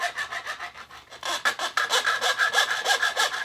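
Guitar fret ends on a red vinyl cigar box guitar being filed round and smooth, a steady run of rhythmic rasping strokes, close and fairly loud, that speed up and grow brighter partway through, with no talk.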